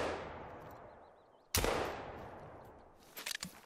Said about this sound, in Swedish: Då har vi ett skott där för the good measure.